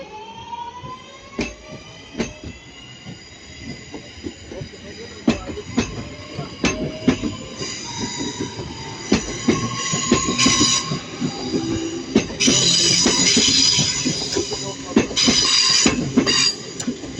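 Class 323 electric multiple units move through Manchester Piccadilly station, with repeated sharp wheel clacks over rail joints, rising wheel squeal and a steady rumble that swells as the trains pass nearby.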